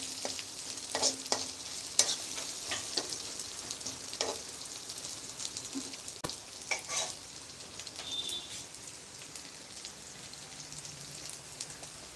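Onions fry in a pan with salt just added, giving a steady light sizzle broken by sharp crackles and scattered pops, fairly quiet and with no voices.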